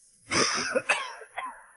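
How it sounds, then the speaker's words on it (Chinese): A man bursts into violent coughing after waking up in heavy rain, a harsh, close, throaty fit of two or three rough coughs with wheezy breaths between them. "忍不住剧烈咳嗽起来"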